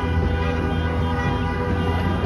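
Car horns at a street protest in Victoria, BC blare in one loud, sustained, close-up honk that holds without a break for about two seconds.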